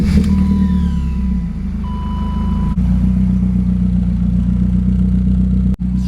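A BMW F30 328i cold-starts after sitting about a week, settling into a loud, steady idle with a deep low rumble throughout, a thin tonal whine and brief beeps early on, and a couple of sharp dropouts.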